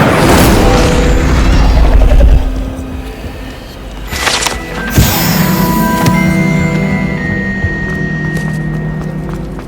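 An Incendio fire spell is cast in Hogwarts Legacy, giving a loud booming whoosh of flame with crackling bursts after an opening low rumble, followed by lingering magical tones.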